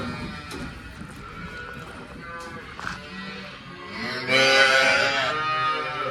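Newborn calves on a cattle farm give a few soft bleating moos, one swelling louder toward the end, amid farmyard shuffling and background noise.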